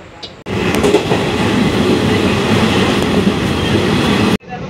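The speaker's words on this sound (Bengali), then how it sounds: "আমাদের ট্রেন এখন ওই 106-107 স্পিডে চলছে।" The Paharia Express runs at about 106 km/h between Nabadwip Dham and Katwa Junction, a loud, steady rush and rattle of the carriage heard from inside, starting and stopping abruptly.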